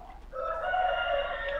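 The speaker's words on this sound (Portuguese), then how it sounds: "O galo cantou." A rooster crows once inside the Free Fire video game, a clear drawn-out cock-a-doodle-doo that starts after a brief pause and rings loud and alone for over a second.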